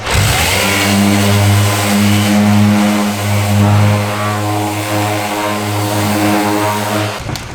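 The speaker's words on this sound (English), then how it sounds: "we're going to give it a once over with the sander" An electric sander fitted with 320-grit sandpaper works over charred Shou Sugi Ban wood for a kitchen bench, a loud, steady motor hum with a buzzing edge that runs continuously and cuts off abruptly near the end.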